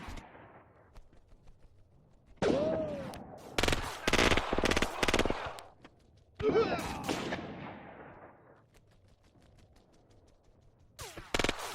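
Machine gun fire from an MG nest in the Graviteam wartime strategy game, rapid loud bursts in clusters with pauses between them, punctuated by heavier booms, near and sharp.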